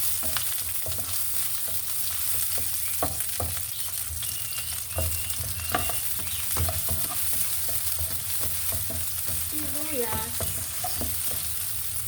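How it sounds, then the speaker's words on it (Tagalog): Onions sautéing in a pan, a constant crackling sizzle with frequent stirring clicks throughout. "gisa na natin yung sibuyas"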